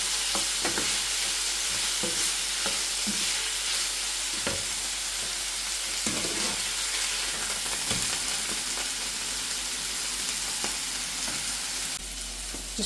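A thick steak fries in a pan over a steady loud sizzle, with occasional clicks and scrapes from the pan spread through the frying.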